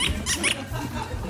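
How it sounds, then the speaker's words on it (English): A squeaky chair gives out a few short, high creaks in quick succession, close and fairly loud, followed by low rustling movement. "Bit of a squeaky chair."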